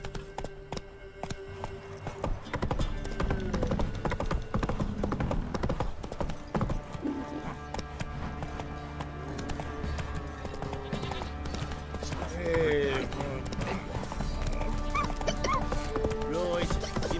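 Horse hooves clip-clop steadily while riding in the video game The Witcher 3: Wild Hunt, with a snort or whinny and game music underneath and someone talking at times over the close, rhythmic hoofbeats.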